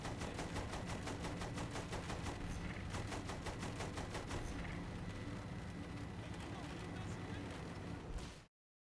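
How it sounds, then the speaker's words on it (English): Rapid machine gun fire in Saints Row the Third rattles in a fast regular burst, loud and sustained for several seconds before tapering and cutting off, with players talking over it. "Use the machine gun then, not the cannon."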